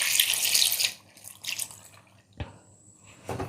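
Thin coconut milk poured into a Kerala-style potato curry, a bright continuous splashing stream for about a second, then scattered trickles and drips, close and moderately loud.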